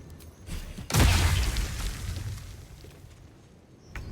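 A single bomb explosion in Baldur's Gate 3 bursts loud and close, a deep boom whose rumbling tail fades over a few seconds, followed by a faint small pop.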